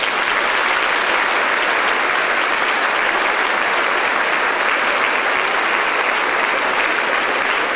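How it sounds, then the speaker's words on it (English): Sustained clapping from a large crowd at a graduation ceremony, dense and even, holding steady for several seconds without a break. "Please join me in a round of applause for our honor graduates."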